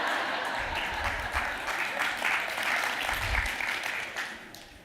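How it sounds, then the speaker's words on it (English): Audience at a national summit clapping in a continuous, fairly loud round of applause, with low thumps and a murmur of voices beneath it. "Don't start clapping already."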